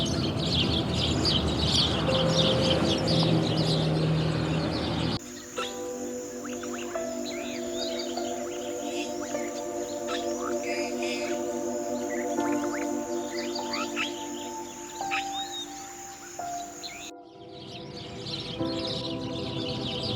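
Wintering migratory birds in Bangladesh chirp and call in a dense, overlapping chorus, with sustained whistled tones and busy tweets layered over steady outdoor ambience throughout, no voices present.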